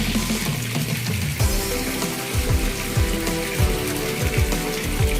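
Rain patters steadily on a covered concrete fish pond with irregular drips and plops close by, a constant wet hiss underneath.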